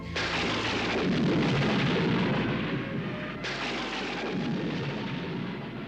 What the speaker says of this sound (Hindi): अचानक ये बिजली कैसे कड़की?